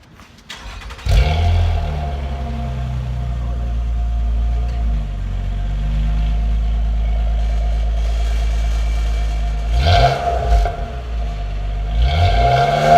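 A 2012 Nissan Maxima fitted with a cold air intake and aftermarket exhaust starts up, then idles loudly up close, with a couple of quick revs near the end and no talking.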